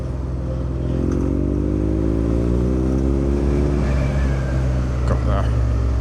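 A BMW R nineT motorcycle accelerates hard to overtake a wide car on a narrow Lake District road, its engine note rising steadily for several seconds over continuous close wind rush.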